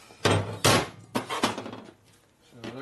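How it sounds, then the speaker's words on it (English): Sharp, ringing metallic hammer blows strike on the valve guides of a 1961 Harley-Davidson Sportster XLCH motorcycle engine, several loud close hits in an uneven rhythm with a quieter gap before a final strike. "Decided to give me something to beat on with a hammer."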